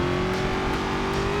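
A car engine in the Forza Motorsport 6 racing game drones steadily and loudly under braking, with a constant tone and no voices.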